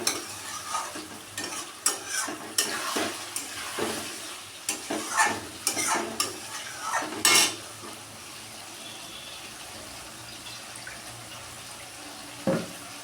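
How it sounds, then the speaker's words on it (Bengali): Papaya and potato curry sizzling in a pan as water is poured in, bursts of loud hissing and stirring scrapes that fade to a quieter simmer with one late clank. "এবার আমি এতে একটু জল দেব, দিয়ে একটু ফুটতে দেব।"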